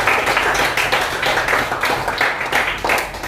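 A classroom of students applauds the children in a dense, lively burst of clapping, a quick scattered rhythm of many hands that fills the room for several seconds without a break.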